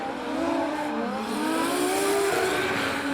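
A drift car in D1NZ Pro-Sport qualifying at Wellington Speedway screams loudly and continuously, its engine revving and climbing in pitch, with faint tyre squeal under the roar.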